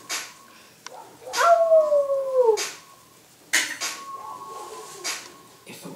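Young puppies whine and let out drawn-out howls in several bursts, close and fairly loud, with quiet pauses between cries.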